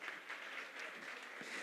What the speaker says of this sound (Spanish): denles un aplauso a mis dos amigos